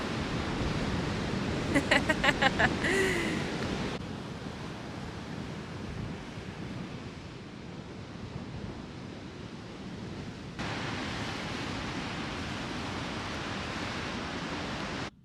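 Strong wind gusts roar over breaking ocean surf on a Florida beach, a steady broadband rush with loud buffeting bursts at the start and end.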